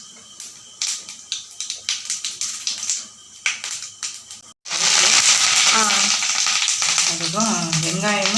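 Mustard seeds land in hot oil in a home kitchen after fennel seeds. Scattered crackles first, then a loud sustained sizzle with continuous popping, and a voice briefly speaks over it.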